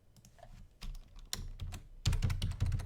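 Keys clack on a computer keyboard as a price is entered into an invoice, a few quick taps followed by a denser burst of strokes, close and fairly loud, with no talking.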